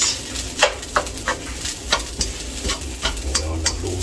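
Fried rice seasoned with soy sauce sizzles in a pan while a spatula scrapes and stirs it in a steady series of sharp strokes, close and moderately loud over a constant frying hiss.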